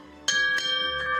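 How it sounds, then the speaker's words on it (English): A ship's bell aboard a naval vessel in an international fleet, struck in a quick pair of bright ringing strikes that hang and decay, then a softer third strike. "It goes 4 bells and sets of 2."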